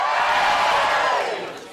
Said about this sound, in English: Give me a cheer if you're single.